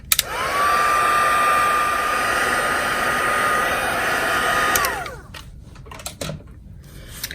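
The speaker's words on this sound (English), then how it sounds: "I've got my heat tool right here, so I'm going to go ahead and emboss it" An electric heat tool melts black embossing powder on a stamped card, a loud steady blowing whir with a high motor whine that runs for about five seconds, then switches off, followed by light handling clicks.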